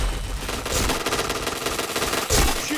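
Rapid automatic gunfire from the shooter game Point Blank rattles continuously and loudly throughout, with a sharper burst near the end and no speech over it.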